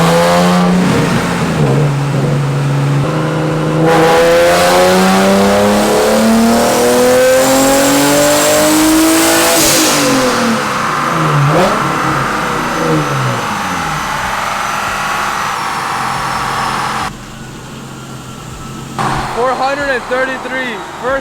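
A Nissan 370Z V6 engine revving hard on a dynamometer during a full-power pull, loud and close, its pitch climbing steadily before dropping back and settling to a lower rumble near the end.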